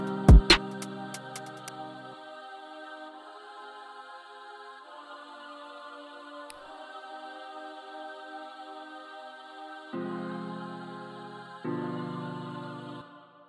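Choir pad in a Soundtrap UK drill beat, doubling the dusty piano chords with no gaps: sustained vocal chords changing every couple of seconds, after a brief opening hit, moderately quiet with no drums.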